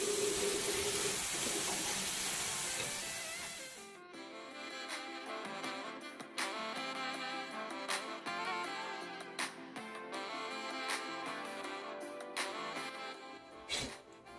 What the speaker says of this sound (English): it is now time to wash